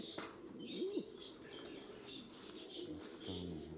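A pet pigeon kept in a small, battered parrot cage at home gives a couple of soft, low coos, one early and one near the end, amid faint background chirps and rustling.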